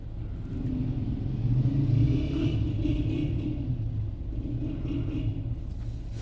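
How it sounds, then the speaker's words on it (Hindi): A DFSK Glory 580 Pro SUV engine starts and settles into a steady low idle, a muffled continuous rumble at moderate level with no talk. "This is the startup of glory."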